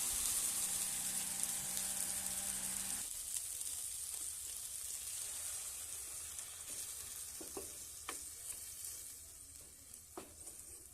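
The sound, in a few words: water poured into pan of frying small fish, sizzling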